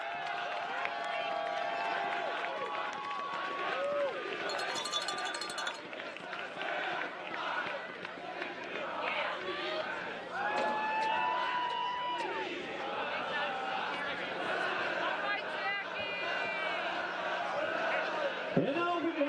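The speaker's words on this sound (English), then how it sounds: "Let's have a nice round of applause for our runners-up," Crowd applause and cheering at a high school Class AA football final as the runners-up, Aquinas Institute, receive their finalist plaque; steady broad clapping and crowd noise runs throughout, with a public-address announcer speaking over it.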